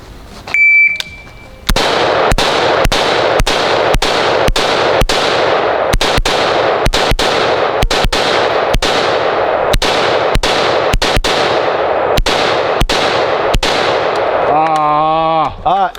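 Rapid series of loud, sharp AR-15 rifle shots fired outdoors during a timed drill, about twenty reports in quick rhythm after an opening timer beep, each ringing with a metallic crack.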